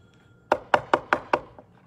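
Five sharp, evenly spaced knocks as at a door, close and clear, followed by a faint sixth tap, with no talking.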